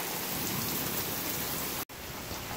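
Heavy Texas rain pours down steadily onto a rainwater collection setup, a dense, even hiss of drops with a very brief dropout near the end, with no voices.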